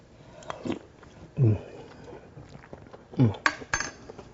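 Someone eats a spoonful of blue crab chowder topped with fried oysters, giving a few close, soft bites and chewing sounds, with spoon clinks against a bowl between quiet pauses.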